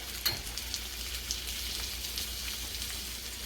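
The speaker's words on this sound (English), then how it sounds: "we're just slicing the potatoes and putting it in, laying it in the oil" Steady crackling sizzle of potato slices frying in hot oil, continuous and fairly close, with a small pop near the start.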